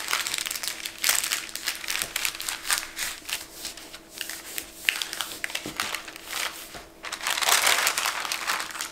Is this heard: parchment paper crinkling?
yes